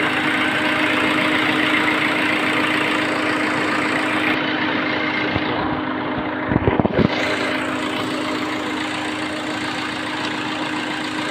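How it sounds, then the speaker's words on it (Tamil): Engine of a 2010 Tata Manza car idling, a steady broadband hum with a low mechanical drone running evenly throughout, briefly disturbed midway by a few soft knocks. "இன்ஜின் நாய்ஸ் வந்து"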